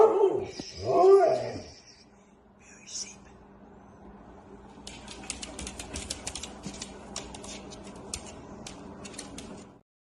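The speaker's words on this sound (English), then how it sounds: "Billy and Nikki have this dog." Small dog in a home in Alaska, making brief yips and whimpers near the start, then quiet shuffling and light clicking movement; no speech in the clip.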